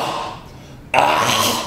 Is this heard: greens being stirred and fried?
no